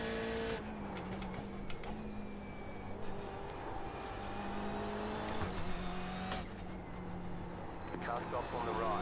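A race car engine in iRacing at the Nürburgring drones and shifts pitch through gears, with a short shift to fifth partway, while someone talks over it.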